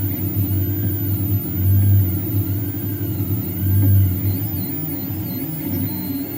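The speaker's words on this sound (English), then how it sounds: "you can hear the harmonics of the various motions of the XY motors" 3D printer XY motors run continuously with a low rumbling hum and periodic swells. Faint whining tones rise and fall above the drone as the carriage moves back and forth.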